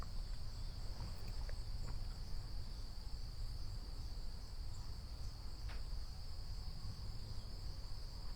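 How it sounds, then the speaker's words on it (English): Crickets chirp outdoors in the morning as a steady high trill, joined by a few faint distant bird notes over a constant low background rumble. "you can hear the crickets"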